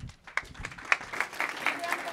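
Brief applause at a tech conference keynote session, a short burst of clapping from a modest audience, fairly close and irregular, lasting about two seconds.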